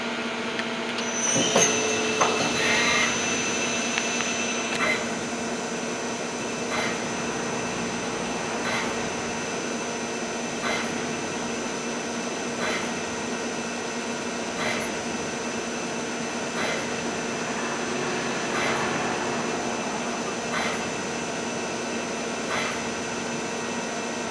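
A Daewoo Lynx 200B CNC lathe with an Iemca V 66LE bar feeder runs in a workshop, giving a steady mechanical hum and whine with tonal ringing and periodic clunks and clicks for the whole stretch.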